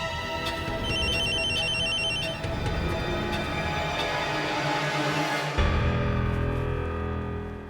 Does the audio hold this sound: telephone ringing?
yes